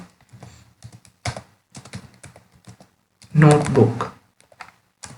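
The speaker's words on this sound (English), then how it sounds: "I'm just going here and typing CMD for command prompt, and I'm typing Jupyter" Light clicks of computer keyboard typing, tapping in quick uneven bursts while a person speaks nearby.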